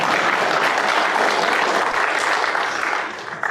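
A large audience at a political forum for Florida governor candidates breaks into loud, dense, sustained applause that holds steady and then starts to fade near the end.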